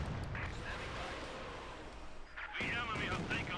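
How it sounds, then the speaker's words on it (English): Field gun bombardment and machine-gun fire in a Company of Heroes 2 battle between German and Soviet forces, heard as dense, rumbling blasts and rattling bursts that drop briefly and then surge back loud. "And a bombardment here from the field gun, machine guns."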